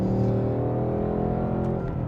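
A 2024 Ford Mustang Dark Horse engine holds a steady, deep rumbling drone throughout, loud and close, heard alone without talk.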